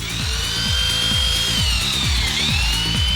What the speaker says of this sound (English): we're using a belt sander to simulate the years of wear and tear normal jeans succumb to.